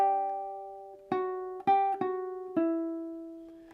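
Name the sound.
ukulele playing a measure of a song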